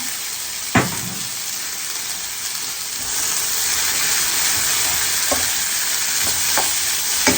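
Mussels stir-fry in a hot pan with pepper and seasoning powder, giving a steady sizzle with occasional sharp clinks of a utensil against the pan, close and alone with no talk.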